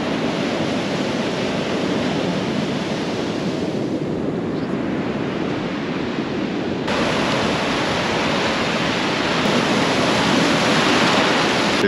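Large ocean waves on the coast at Punta del Diablo, Uruguay, make a loud, steady, unbroken roar of surf, with some wind rushing across the microphone.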